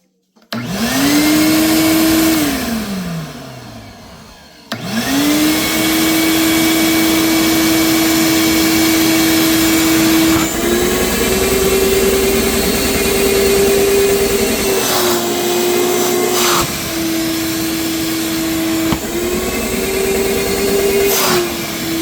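A Ridgid 6 HP, 14-gallon NXT shop vacuum, just reassembled on its bucket after a repair, starts and runs with a loud steady whine, briefly winds down partway through, then restarts and holds a continuous high motor drone.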